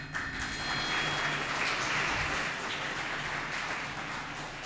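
Audience applause fills a primary political candidate forum, a steady broadband wash of clapping from a crowd that holds fairly constant for several seconds before easing slightly.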